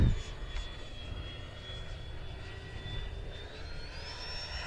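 Scale model Blue Angels jet flying with afterburners lit, a loud continuous turbine roar and whine that rises in pitch as it passes fairly close.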